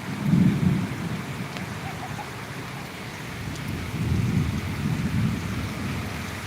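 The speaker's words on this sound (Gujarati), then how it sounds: "ચાલુ જ છે હજી વરસાદ" Heavy monsoon rain pours steadily and loudly, with deep rolling thunder rumbling close by near the start and again later; no voices.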